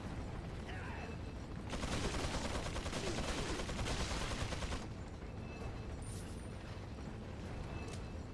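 Gunfire in Resident Evil 4 on Classic Professional mode during a fight with a tanky rocket-launcher enemy, heard as a dense, loud burst of rapid shots lasting a few seconds over constant game noise.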